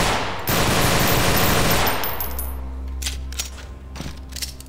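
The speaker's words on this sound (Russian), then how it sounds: "этот мод классно стреляет" Rapid automatic fire from a modded gun in Garry's Mod during a co-op FNAF 2 map, a loud dense burst lasting about two seconds, then a low hum with scattered small clicks.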